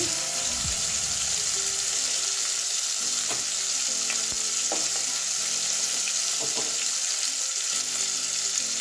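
Pointed gourd (potol) frying in oil with a steady, loud sizzle throughout, broken by a few sharp clicks and scrapes of stirring, no talk.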